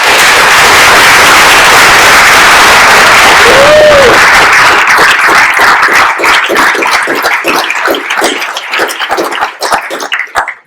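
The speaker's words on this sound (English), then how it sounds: "Let's give everyone a round of applause." Conference audience applause at the EuroVis 2014 closing session in Swansea, Wales, a dense, loud burst of clapping that thins into scattered individual claps and tapers off near the end.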